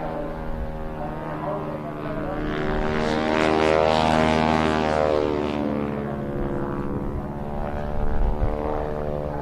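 A propeller-driven biplane carrying wingwalkers at the Bournemouth Air Festival, its engine drone swelling loudly as it passes close, then fading slightly before rising again.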